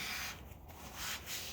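Sanding disc rubbing across a walnut platter, a steady close whooshing abrasion with slight pulses as the pressure shifts, heard alone.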